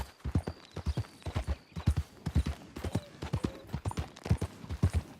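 Horse hooves clip-clop steadily in Red Dead Redemption 2 gameplay, a close, rhythmic walking gait with even, repeated thuds and no speech over them.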